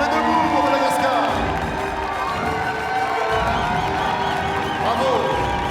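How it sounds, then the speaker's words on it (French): A standing audience cheers and claps for the Madagascar team at an international catering competition, a dense, steady roar of crowd noise that holds at an even level throughout. "Allez, on applaudit, s'il vous plaît. On se met debout pour Madagascar."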